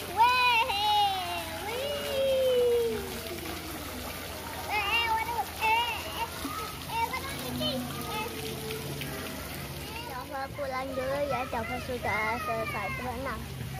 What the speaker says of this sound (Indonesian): Jamur, pancuran jamur kawan-kawan.